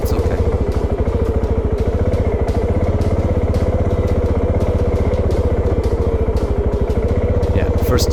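A Voge 650 DSX motorcycle climbs a rocky off-road trail in first gear, its engine close and loud with a steady, even throb that does not let up.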